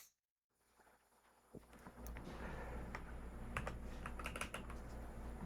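Typing on a computer keyboard while building a website form: after a brief silence, a steady run of close, crisp key clicks with a few sharper taps, over a low room hum.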